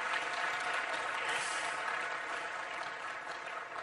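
Steady, dense audience applause fills a large hall after an opening performance at an annual meeting's opening session, even and sustained throughout with no talk over it.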